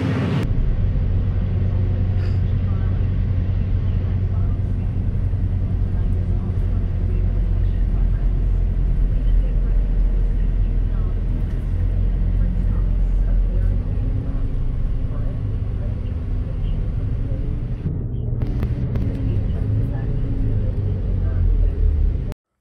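A Surfside Buslines Bustech CDi bus with a Cummins ISL diesel engine drives along, a steady low engine drone and road rumble with continuous cabin noise from inside.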